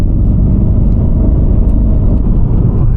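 A Mercedes-Benz accelerates along an open national speed limit road, a loud, steady low engine rumble with road roar heard from inside the cabin.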